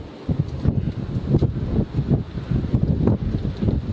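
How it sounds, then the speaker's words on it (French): Gusty wind on a mountain trail in Savoie buffets the microphone, rumbling low and loud in uneven surges with no voices. "Désolé pour le vent."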